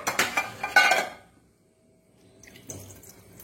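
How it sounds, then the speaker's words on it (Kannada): Flattened rice (avalakki) is rinsed with water in a kitchen vessel. About a second of close, clattering splashes is followed by near silence, then soft sloshing returns. "ಈ ಅವಲಕ್ಕಿಗೆ ನಾನು ಸ್ವಲ್ಪ ನೀರನ್ನು ಹಾಕಿ ಅದನ್ನು ತೊಳೆದುಕೊಳ್ತೇನೆ."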